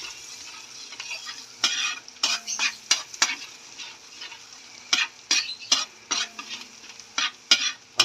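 Garlic sautés in butter in a hot pan, a steady close sizzle broken by repeated scraping and clanking stirs of a utensil against the pan, with no voices.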